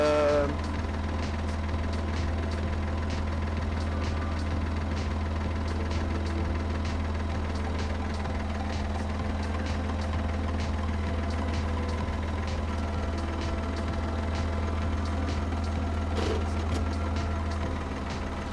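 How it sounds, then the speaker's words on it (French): A Massey Ferguson tractor runs with its power take-off engaged in a vineyard while winding trellis wires, a steady low engine drone with constant mechanical whine and faint ticking, unchanging and moderately near throughout. "je vais embrayer le tracteur, donc la prise de force"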